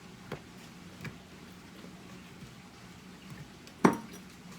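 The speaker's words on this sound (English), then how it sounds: "I've got 2 small onions that I have quartered, and I'm just gonna throw them in here." Quartered small onions tumble into a crockpot: a couple of soft, faint thuds spaced apart, then a sharper, brief clink against the ceramic pot, set against a quiet kitchen background.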